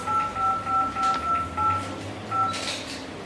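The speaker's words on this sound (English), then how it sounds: "We tapped 2055 into our phone, the name of our school," A phone keypad beeps a series of short dial tones as numbers are tapped in, about nine evenly spaced beeps in a quick rhythm with a brief pause before the last, close and clear.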